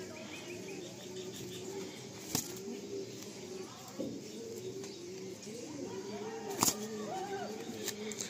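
Restless pigeons give soft, repeated cooing calls with occasional chirps, wing rustles and a few sharp knocks over steady background noise, with voices talking faintly nearby.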